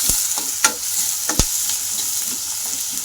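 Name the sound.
onion added to frying cumin, sizzling in pan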